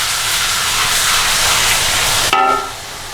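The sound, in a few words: garlic ginger paste sizzling as it fries with onions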